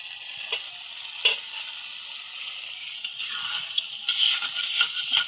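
Small puti fish frying in a pan give off a loud, continuous hiss and crackle that swells toward the end, broken by a few sharp taps and stirring clatters.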